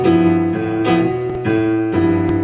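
A bass plays a short sequence of separate sustained notes, each note changing every half second or so, with no talking.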